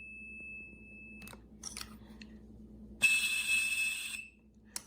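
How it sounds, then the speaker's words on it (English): A 3D-printed blue box whistle sounds a pure, steady 2600 Hz tone, first clean for about a second, then again mixed with airy hiss and clicks. "I would say that whistle generates a perfect 2600 hertz tone"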